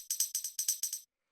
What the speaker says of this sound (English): So all this is just a tambourine sample